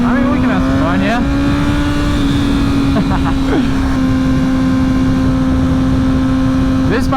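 A Honda CBR1000RR sport motorcycle fitted with a loud Yoshimura exhaust runs at a steady, sustained roar with a few brief revs, constant and close throughout under heavy wind rush.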